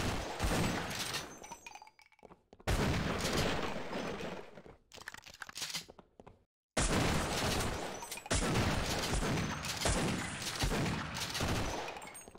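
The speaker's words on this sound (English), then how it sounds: "Oh, there's a big turret." A big turret fires in a Half-Life co-op game, unleashing long, loud bursts of rapid gunfire broken by brief pauses and one near-silent gap before the barrage resumes.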